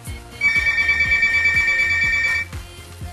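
A mobile phone ringtone plays as a steady, loud electronic trill for about two seconds, then stops, over a rhythmic music beat that continues underneath.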